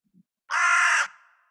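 A single harsh crow caw, loud and close, lasting about half a second and trailing off into a brief faint tail, heard alone against silence.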